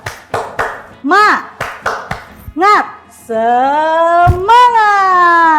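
A primary school class led by a teacher performs a rhythmic 'tepuk semangat' clapping chant, with sharp patterned claps alternating with sung chant syllables, ending in a sustained voiced cheer; children's and adult voices are heard close and loud.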